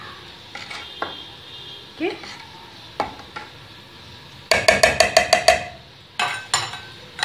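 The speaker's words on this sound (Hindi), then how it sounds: "लेकिन चावल इस तरह चलाएं कि वो टूटे ना।" Rice being stirred in a pot for sweet jaggery rice, a spoon scraping and clinking against the metal in scattered strokes, then a quick run of sharp rhythmic taps near the end; a brief spoken word in the clip.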